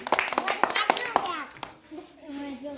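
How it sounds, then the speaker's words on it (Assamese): Schoolchildren clap their hands during a number game in a primary classroom, a quick run of sharp, uneven claps with children's voices mixed in, fading into quieter talk near the end. "হৈছে নে হাত চাপৰি দিয়া"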